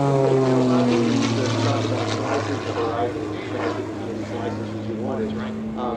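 A propeller aerobatic airplane drones overhead at an airshow, its engine tone steady and loud, then easing and dipping as it maneuvers.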